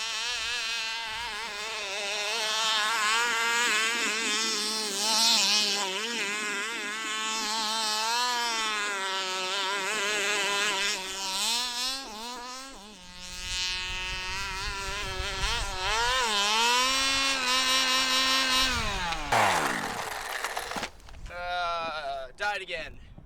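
HPI Baja 5B petrol RC car engine screams at full throttle on a snowy motocross track, a loud buzzing two-stroke whine that climbs and dips in pitch before cutting out near the end.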